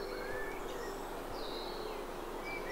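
A bird delivers a loud, explosive song of whistled notes and chirps over a steady outdoor background hiss, with short bright phrases repeating through the stretch.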